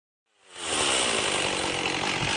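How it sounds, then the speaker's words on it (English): An electric chainsaw starts up and runs at a steady, loud, high-pitched whine, close by and alone. "This is an electric chainsaw."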